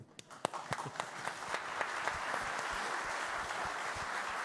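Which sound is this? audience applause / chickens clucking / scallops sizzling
audience applause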